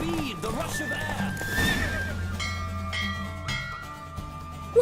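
A horse from The Witcher whinnies loudly near the start of a race, with hoofbeats clopping beneath it, then the sound gives way to ringing, bell-like music tones, and voices are heard.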